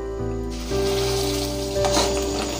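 Spice paste for aloo dum hits hot oil and sizzles in short bursts, a close, steady crackling hiss that swells as more paste goes in.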